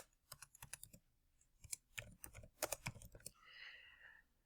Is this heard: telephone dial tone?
no